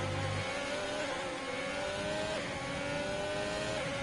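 A Ferrari race car on the Mexico track accelerates away with a sustained, steady high engine whine that rises slowly in pitch at a constant loud level, with no other voices over it.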